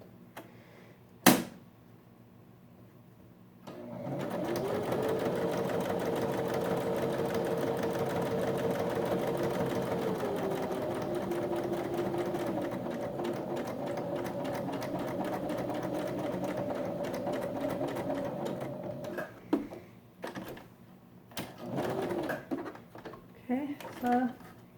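A sewing machine runs steadily for about fifteen seconds while stitching a fabric cup mask, a fast, even mechanical whir with a faint rhythmic tick. Quieter handling noises come just before and after the run.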